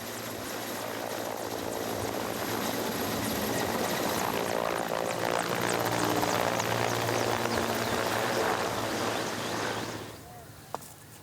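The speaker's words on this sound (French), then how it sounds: "Les cas sérieux sont transférés par hélicoptère" A helicopter transferring serious cases from a mountain village field hospital, its steady rotor thrum and engine roar fairly loud and continuous for several seconds, then dropping away near the end.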